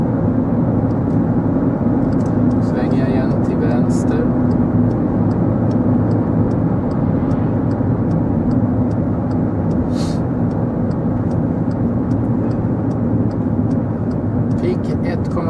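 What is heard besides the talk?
VW Polo 1.4 TSI engine noise inside the cabin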